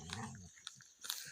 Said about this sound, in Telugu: 2 కుక్కల మధ్య యుద్ధం జరుగుతుంది.